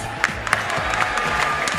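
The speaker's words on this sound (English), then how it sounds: "Everyone give him a round of applause." Crowd applause and cheering at a UCMMA event for the MMA light heavyweight champion, a steady wash of clapping with a few sharper claps standing out and no clear voices.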